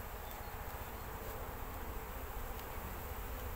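A steady, dense buzzing of many bees hums continuously at an even level, with no talking.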